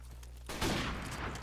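Gunfire from Modern Warfare Remastered, a loud, dense burst of shots filling the short clip after a brief quieter moment.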